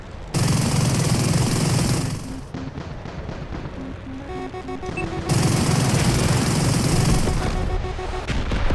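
Aircraft guns in the Metalstorm jet combat game, flown in an F-100, pour out sustained, dense rattling fire in two long stretches. A steady roar fills the gap between them.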